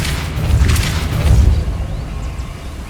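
A Depulso spell cast in the Hogwarts Legacy video game: a deep, rumbling magical boom swells twice in quick succession, then fades into a low lingering drone, loud and close with no talking.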